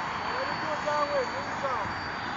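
A fast FF-22 RC jet driven by a Detrum 64mm electric ducted fan on 4s power makes a steady high-pitched whine, with a faint rising and falling sweep as it passes at a distance. A voice talks over the sound.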